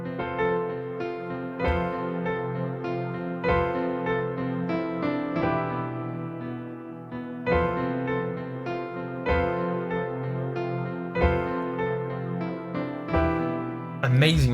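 A tune from Zelda: Majora's Mask played as full sustained chords on a keyboard, with warm rich harmonies that change steadily over a gentle, even rhythm, heard clearly and fairly soft.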